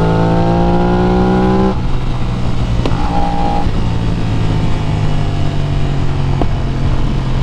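An Aprilia RS660 motorcycle with an auto blipper idles and revs with a steady engine drone, punctuated by a couple of sharp exhaust pops.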